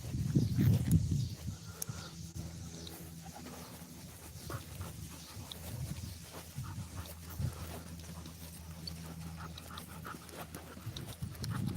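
A dog pants steadily and close by, a continuous rapid breathing rhythm that runs throughout against a busy indoor background, with no speech.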